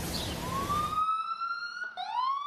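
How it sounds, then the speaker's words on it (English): Emergency sirens wail on New York City streets during the coronavirus outbreak, one rising, sustained tone sliding upward and then restarting, loud and steady over dense city background noise before it clears. "Out here in the streets, it's nothing but ambulance sirens."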